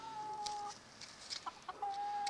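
Soft clucking of chickens nearby, a few short calls scattered over a quiet background, faint overall.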